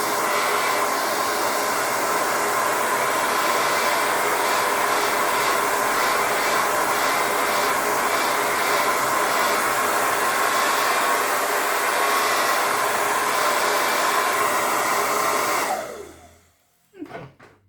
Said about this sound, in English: I'm going to dry this a little bit before we put any decoration on the tree